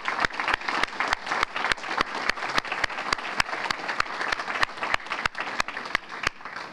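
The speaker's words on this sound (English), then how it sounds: "I think I want to give them a round of applause." Audience at a high school academic banquet applauding faculty and staff, a steady round of many hands clapping at moderate distance, filling the room evenly without speech.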